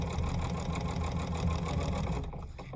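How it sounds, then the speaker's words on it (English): A sewing machine stitches bias tape around the edge of a quilt, running with a loud, continuous mechanical whir that winds down and stops near the end, with no talking. "And I just stitch around until I get to where I started."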